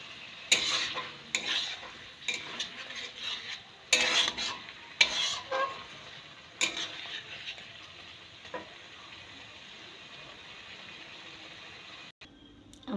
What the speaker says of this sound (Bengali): চিংড়িটা দিয়ে দিয়েছি, দিয়ে 5 থেকে 7 মিনিট ফ্রাই করব।